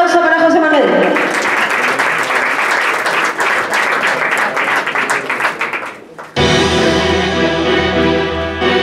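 Loud audience applause for a singer performing a Spanish love song, dense clapping that fades out after about six seconds before music starts abruptly with a sustained vocal line.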